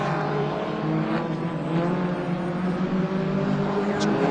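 A race car brakes late and corners at Knockhill circuit during a BARC race. The engine drones steadily and loudly from a distance, its pitch rising and falling in a continuous roar, and a commentator's voice runs over it.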